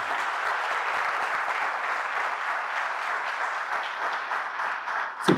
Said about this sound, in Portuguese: Aplauda o seu Deus bem forte.